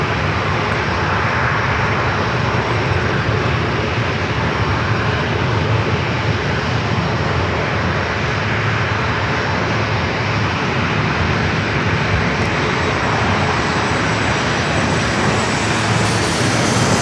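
A Delta jet airliner, a 757, roars loudly and continuously at San Diego Airport, a thick, unbroken engine rush lasting throughout with no speech.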